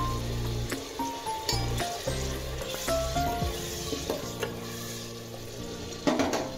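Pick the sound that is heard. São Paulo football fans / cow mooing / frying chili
frying chili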